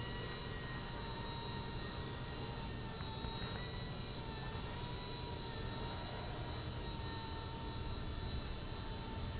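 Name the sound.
RC helicopter flying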